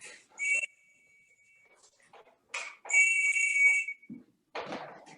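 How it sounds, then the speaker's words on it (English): Several shrill whistle blasts calling trained cats, a short one followed by a longer sustained blast, loud and close, with brief rustling and thuds between them. "and then I blow the whistle"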